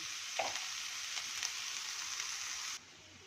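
Vegetables fry with salt in a pan for veg fried rice, making a soft, steady sizzle with a couple of faint stirring knocks before it cuts off abruptly near the end.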